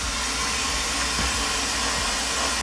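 Wet blasting with glass beads stripping paint produces a dense, continuous hissing spray roar, loud and steady with no pauses, cutting off abruptly at the very end.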